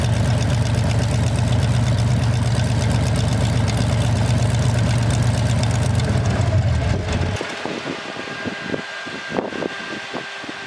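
A Corvette LS3 V8 running slightly rough in a Velocity kitplane, a loud, close, steady low idle rumble that cuts off around two thirds through, leaving a quieter mechanical hum with faint ticks.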